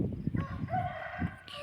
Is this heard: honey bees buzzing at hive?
no